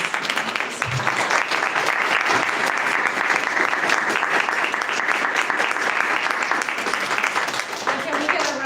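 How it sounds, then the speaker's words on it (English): A seated audience gives panelists a sustained round of applause: dense, loud clapping that runs unbroken for several seconds and barely fades at the end. "Can I get a round of applause for our?"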